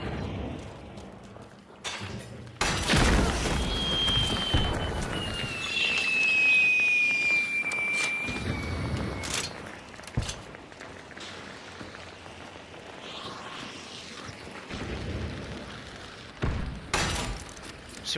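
Frag grenade explosion in Hunt: Showdown 1896, a loud close blast with scattering debris, among other sharp bangs and quieter ambience in a tense firefight.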